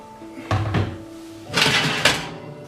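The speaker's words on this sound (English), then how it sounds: "Close the oven door and leave for 30 to 60 minutes to double in size." A couple of clunks and a rattling thud as a heavy oven door is pushed shut, close by, followed by a quieter knock.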